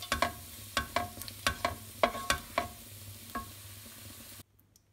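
Palak paneer frying on low heat, stirred with a utensil that taps the pan in a quick irregular series of sharp clicks over a faint sizzle, then stops abruptly near the end.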